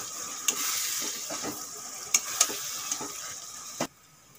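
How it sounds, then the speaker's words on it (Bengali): Mashed green banana is stirred with oil and spices in a frying pan: a low continuous sizzle punctuated by a few sharp spatula clicks against the pan, ending abruptly in near silence. "তেলের সঙ্গে মশলার সঙ্গে ভালো করে মিলিয়ে নেব।"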